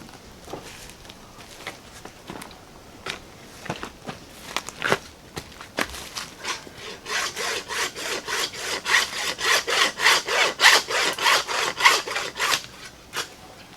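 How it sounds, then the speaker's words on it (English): A bone saw works through deer bone during butchering, slow scattered strokes giving way to a fast, steady back-and-forth rasp, loud and close with no talking. "Grab the bone saw and cut it off."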